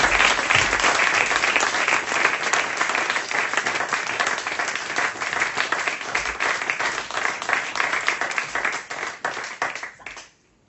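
Dense audience applause at a cabaret show in Monoblet, sustained loud clapping from a full house that carries on steadily for about ten seconds before cutting out.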